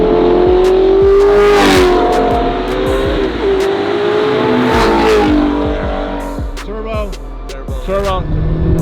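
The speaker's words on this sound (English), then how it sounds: "the Turbo's gonna race. Oh, they're gonna race." Cars including a turbo car, an Alpina and an Audi R8 accelerate hard in a street race, with repeated rising engine revs, gear shifts and tyre noise passing close by.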